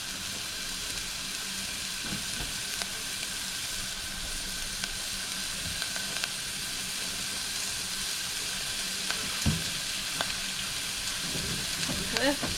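Steak for fajitas cooks in a pan, making an even, moderate sizzle throughout with occasional faint clicks and utensil taps nearby.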